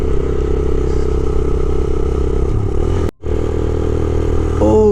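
A motorcycle rides the Karakoram Highway from Hunza toward Khunjerab, its engine a steady, loud close drone that briefly cuts out for a moment before resuming.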